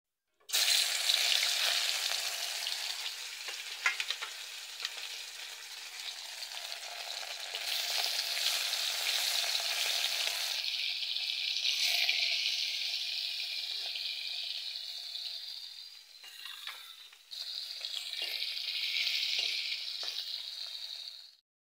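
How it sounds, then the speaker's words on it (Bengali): Pieces of fish fry in hot oil in a pan, giving a loud continuous hiss and crackle close by that swells and dips, with a short pause before the sizzling resumes. "মাছগুলো এখন আমি ভেজে নেব।"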